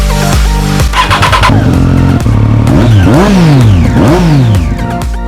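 A 2009 Honda CBR1000RR Repsol sportbike with a full Yoshimura exhaust and Power Commander cranks, catches and fires, then revs sharply several times, loud and close with rising and falling engine pitch.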